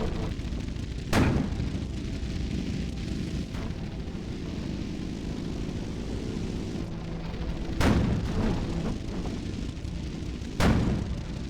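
A tank in the video game Sprocket takes hits and is destroyed, with three sharp, heavy booming impacts spaced apart over a constant low rumbling engine drone, no speech.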